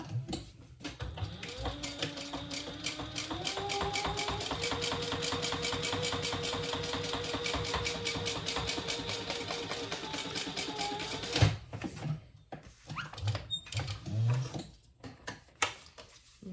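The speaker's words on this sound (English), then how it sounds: "Now let's finish top stitching here." A sewing machine runs steadily top stitching a crossbody bag, a fast even mechanical patter sustained for about eleven seconds before stopping, followed by scattered handling clicks and knocks.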